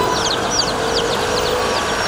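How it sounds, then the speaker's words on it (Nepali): Broiler chicken chicks, dyed to pass as local chicks and seized in Kalanki, Kathmandu, peep in a steady chorus of high, overlapping chirps that never pause. "यिनै हुन् नक्कली कुखुरा।"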